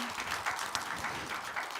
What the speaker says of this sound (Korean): 우리 이분들 안 계시지만 격려 축복의 박수 한번 합시다